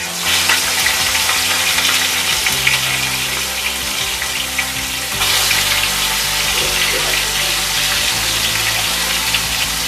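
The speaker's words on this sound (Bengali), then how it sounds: "তেলটা গরম হয়ে গেছে। এবার মাছগুলো আমরা ভেজে নেব।" Koi fish sizzle loudly in hot mustard oil for a traditional Bengali tel koi, a steady close crackling hiss that swells briefly about halfway through as the fish settle in the pan.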